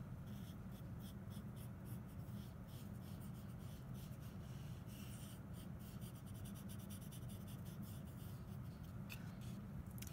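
Charcoal rubs and scratches steadily across drawing paper as folds of fabric are shaded, giving a continuous soft scraping texture with quick strokes layered on top, close and moderately quiet.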